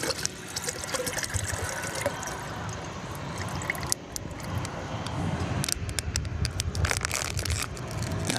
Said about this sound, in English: And now the sound of me pouring water.